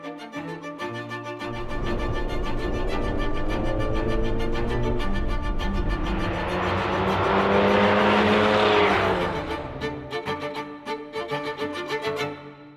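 A built Audi A4 project car laps a race track, its engine roaring loud and near as it revs up through the gears, rising to a screaming peak with tire squeal before easing back with pops and lifts.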